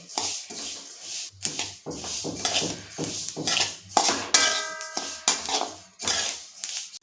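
Metal spoon scraping and clattering against a pan as sesame seeds are stirred while dry-roasting, rapid irregular strokes close up, with a brief rattling clink midway.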